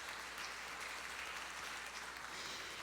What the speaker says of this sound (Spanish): La del rector Luis Fuenmayor Toro, para quien pido un aplauso, por favor.